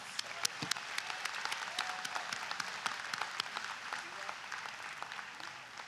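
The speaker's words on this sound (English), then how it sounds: "Let's give everyone a round of applause." Applause from a graduation audience in a university gymnasium at a fall commencement, a steady spread of claps with sharper individual hits, moderately distant and fairly quiet.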